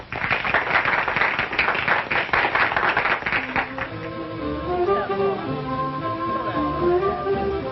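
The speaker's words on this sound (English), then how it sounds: "What do you say we bring him on with a great big hand?" A studio audience claps in a loud burst of applause welcoming the Porter, fading after a few seconds as music with sustained tones takes over.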